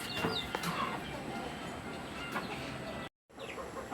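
Backyard pet chickens cluck and murmur at afternoon feeding time, a steady flock chatter close by with no talk.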